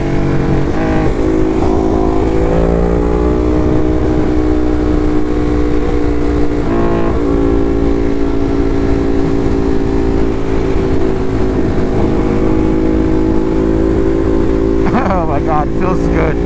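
Motorcycle on Pirelli tires cruising around New York, its engine a steady, loud, close drone throughout, with a slight change in pitch near the end.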